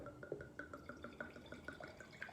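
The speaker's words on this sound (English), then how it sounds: "Okay, now we'll pour this here." Valpolicella red wine is poured into a glass, giving a faint, steady run of small rhythmic glugs and drips over a couple of seconds with no talking.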